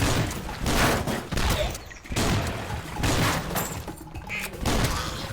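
Rapid gunfire bursts from the Swamp Attack video game, dense repeated shots in several loud clusters that sound close and continuous, with brief gaps between volleys.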